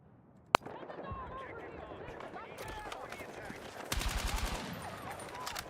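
Assault rifle fire in an online shooter, a sharp shot followed by a sustained burst of rapid gunfire that grows louder toward the end, with chatter and game noise underneath.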